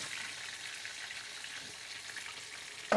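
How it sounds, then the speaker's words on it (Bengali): Chicken and prawn tempura deep-fry in hot oil, a steady, even sizzle throughout, ending with a short clatter. "এই জিনিসটা ফ্রাই হতে থাক"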